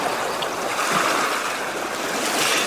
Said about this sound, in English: hear the whooshing sound of water rushing to the beach